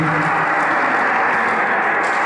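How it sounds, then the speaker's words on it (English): An audience applauds at an award presentation, a dense steady clapping that fills the room loudly and evenly throughout. "Please, a round of applause for KBC as he comes to present this award to KBC."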